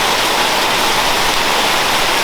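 Heavy rain pouring down in a bamboo forest, a loud, dense, steady wash of broadband hiss with no pauses and no voices.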